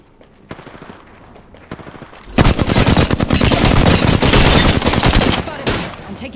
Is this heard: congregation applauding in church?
no